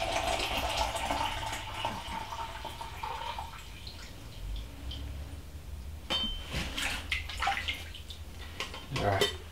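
Beer-based film developer liquid is poured out and dumped, a steady wash of running, splashing liquid with a few clinks and drips, fairly faint and close.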